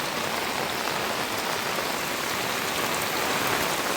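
Heavy downpour pounds the ground in Vaddukoddai, Jaffna, Sri Lanka, a steady, dense roar of rain close by with no letup and no voices.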